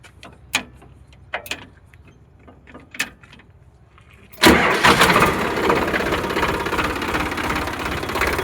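A Sonalika DI 42 RX tractor from 2016-17 with a new battery and about 3400 hours of use. A few scattered knocks come first, then the diesel engine cranks and catches abruptly and settles into a loud, steady idle close by.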